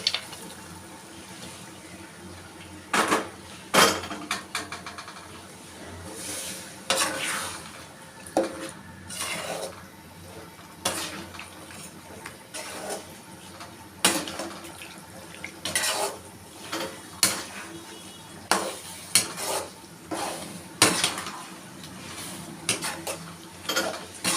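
Boiled chicken pieces tipped into gravy in a pot and stirred, with repeated clanks of a spoon against the metal pot and wet stirring sounds in irregular bursts, close up and fairly quiet, with no talking.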